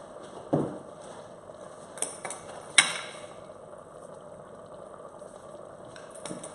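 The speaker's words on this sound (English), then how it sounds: "So give all that a really good mix up." Porridge ingredients, including red quinoa seed, are mixed in a container. A few sharp clinks and knocks of a utensil sound against it, sparse and quiet over near silence, with no talking.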